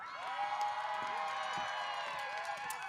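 A graduation crowd at Petaluma High School cheers and whoops in a steady, dense roar that carries through the whole stretch, with shouts rising above the noise.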